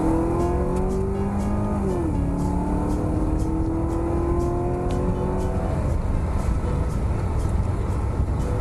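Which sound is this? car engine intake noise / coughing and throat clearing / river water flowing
car engine intake noise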